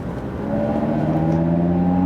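A 2017 Audi TT RS with its 400 hp five-cylinder engine revving, a loud, close, steady droning tone that swells slightly and holds without break.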